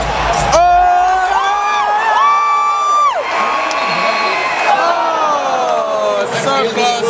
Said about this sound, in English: And the crowd is wild.